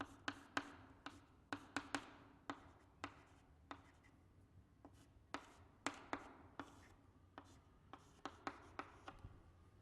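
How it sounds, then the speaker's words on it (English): Chalk or marker writing on a board in a chemistry lecture, a series of sharp, separate taps and short strokes at an uneven pace, faint against a quiet room with no speech. "I will write it here."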